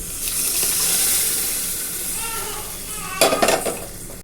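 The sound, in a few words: pouring mashed lentils into hot pan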